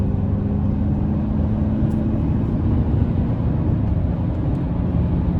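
A 2024 Chevrolet Silverado 1500 Custom Trail Boss with a turbo engine pulls from inside the cab, a steady low rumble and drone that stays even throughout, with no voices.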